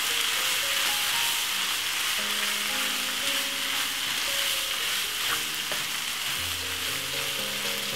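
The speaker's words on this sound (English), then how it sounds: "And also a pinch of paprika. Give it a nice stir." Tuna pasta with a pinch of paprika is stirred in a hot pan, a continuous loud frying hiss with occasional spoon scrapes, close and steady throughout, no voices.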